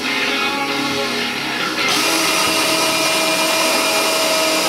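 A power drill bores pilot holes into wood while building a 3-inch firework display rack, making a loud, steady, continuous whirring grind that rises slightly in intensity partway through, with no talking.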